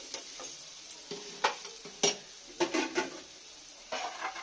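Mutton gravy is stirred in a pan after salt goes in, with sharp scraping clinks of a spoon against metal coming in irregular bursts over a soft sizzle.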